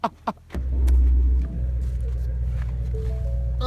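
A Ford Mustang GT350R is driven on a gravel road, a couple of sharp knocks giving way to a loud, deep engine rumble that swells and then settles into a steady drone.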